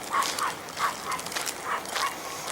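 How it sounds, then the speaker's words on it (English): Dogs at a dirt-lot RV park in Arizona bark and yip in a quick series of short, moderately distant calls, roughly six barks in under three seconds over a quiet background. "And annoying dogs."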